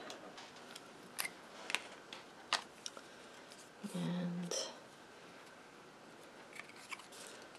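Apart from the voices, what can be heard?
scissors cutting card stock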